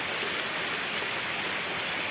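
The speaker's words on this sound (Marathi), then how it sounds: "इथे खूप पाणी पडतो हे बघा" Heavy rain falls in a forest, a dense continuous roaring hiss of water that stays loud and unbroken for the whole stretch.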